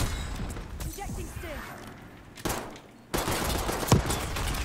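Gunfire in Black Ops 6, with shotgun blasts among rapid bursts and sharp cracks over a busy battle din, loudest in a burst near the end.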